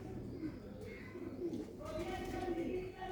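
Rooftop pigeons kept for sale coo softly and steadily at close range, a low rolling call repeating under faint background voices.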